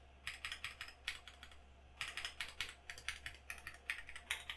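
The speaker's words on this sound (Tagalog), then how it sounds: "yung spacebar talaga yung medyo mahirap kunin yung magandang tunog yun" An Akko PC98B mechanical keyboard with a 98% layout is typed on in quick bursts of crisp, clacky keystrokes and occasional spacebar hits. The keys are close and clear over a faint low hum, with pauses between runs.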